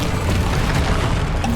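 A Bombarda blasting spell explodes in a Harry Potter video game, a loud, dense, continuous rumbling boom with crackling debris filling the whole short moment.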